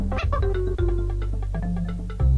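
A cat meows from a game, Donkey Kong Country 3, a few short tonal cries over a steady low music bed.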